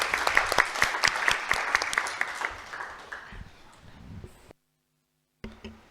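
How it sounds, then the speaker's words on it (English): A conference session audience applauds for about four seconds, a dense patter of clapping that thins and fades out, followed by a brief silence and a short sound at the end. "let's just give a round of applause to our 2 presenters"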